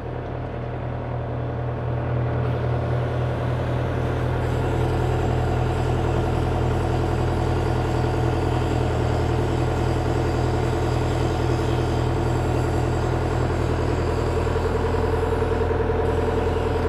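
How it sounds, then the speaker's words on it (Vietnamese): Diesel engine of an IHI IS120GX excavator, freshly fitted with a new boom, starts up and settles into a steady, loud, low rumbling idle that runs unbroken for over fifteen seconds with no talk. "bây giờ nổ máy để thử tải nha các bạn."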